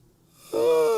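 A single drawn-out human yawn, starting quietly with a breathy inhale and swelling halfway through into a loud, voiced, sighing exhale that holds to the end, close to the listener.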